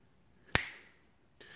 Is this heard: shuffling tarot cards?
no